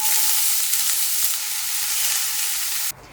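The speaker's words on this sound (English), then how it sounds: "1 big onion finely chopped that I saute and then add all the chopped leaves, stirring in for a couple of minutes" Chopped onion and moringa leaves sauté in a tablespoon of oil with mustard seeds, giving a steady, close, loud sizzle and crackle that runs on without talk, then drops off sharply near the end.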